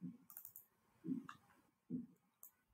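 Computer mouse clicks while working in PowerPoint: several quiet, sharp clicks spaced out over a few seconds, close and faint with no voice.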